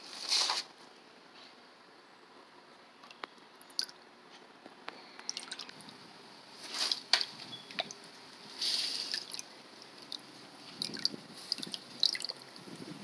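Water conditioner dripping into a new outdoor aquarium: quiet, scattered drips and small liquid squishes come in intermittent clusters, faint and close, with no talking.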